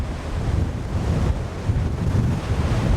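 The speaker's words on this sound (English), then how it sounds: "but we did get some big waves" Big storm waves crash continuously along with gusting wind, a loud, steady roar of surf and wind buffeting close by.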